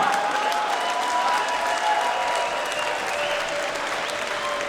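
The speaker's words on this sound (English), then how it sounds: "round of applause for these two warriors" An audience at a WFS fight night applauding after a bout ends, sustained loud clapping from a large crowd that carries on steadily throughout.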